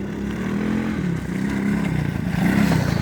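A close ATV engine drones and revs in a steady, loud low rumble with slight surges and dips, lasting the whole three seconds without talking.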